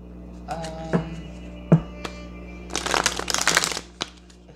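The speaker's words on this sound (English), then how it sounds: "My shuffling sometimes can be a little clumsy." Tarot cards being shuffled in a few quick riffling bursts, with a couple of sharp taps and clicks between, close up against a faint steady hum.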